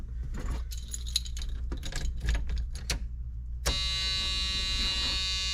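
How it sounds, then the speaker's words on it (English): Keys jingle and rattle in a few bursts, then a steady electronic key-on warning buzzer in a 1981 Dodge D150 pickup switches on and keeps sounding. "And there's that buzzer."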